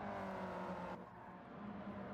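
A Ford Cosworth race car in a street car showdown final drives past with a steady, tonal engine drone that shifts pitch and fades slightly partway through, heard close and alone.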